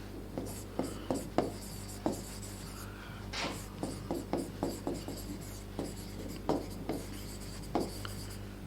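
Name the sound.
writing on a board during a lecture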